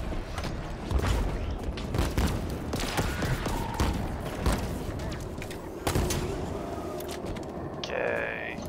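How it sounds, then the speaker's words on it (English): Rocket launcher firing in the Halo Infinite video game, with booming shots and explosions amid a dense, loud mix of gunfire and game effects, with a few sharp blasts standing out. "Rocket launcher."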